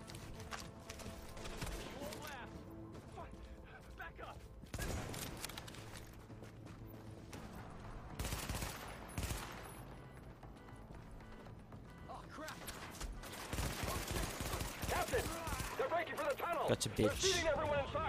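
Gunfire bursts from The Division video game come in scattered loud cracks and short volleys amid game sounds, with players talking throughout.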